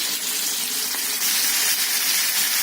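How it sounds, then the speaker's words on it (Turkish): Liver sizzles and crackles as it fries in hot oil, Edirne-style, with a loud, steady hiss close by, and no voices. "Şimdi ciğerlerimi hemen yağın içerisine atıyorum."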